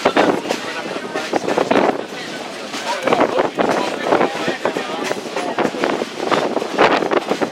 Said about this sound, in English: The wind is awfully strong.